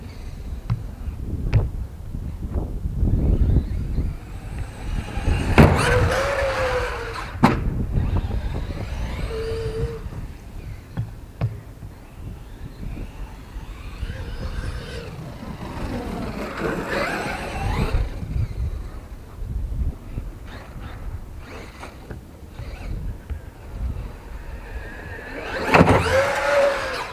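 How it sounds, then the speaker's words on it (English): Traxxas Maxx RC truck driving outdoors, its small electric motor whirring and surging in short bursts amid wind noise and rough bumps, no talking. "that's the Traxxas Maxx. And I think I'm happy with it. It's a tough truck."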